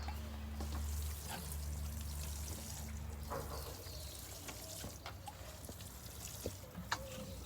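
Water poured from a container onto seedling plants grown from seed in soil, a soft steady trickle and splash running for several seconds over low background hum.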